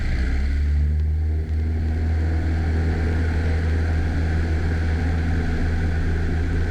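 A small airplane engine runs at full power on a touch-and-go takeoff, a loud, steady, close droning roar with a strong low hum that holds constant throughout.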